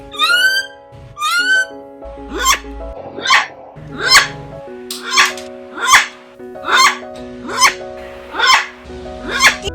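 A macaw lets out a string of loud, squawky whistles and chirps in quick succession, repeating roughly every half second, close and excited.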